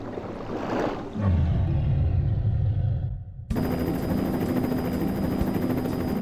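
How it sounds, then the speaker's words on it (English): A helicopter flies over open water, its rotor and engine making a loud, steady droning roar that swells, dips briefly, then resumes with a sharper whine. "When the chopper arrived,"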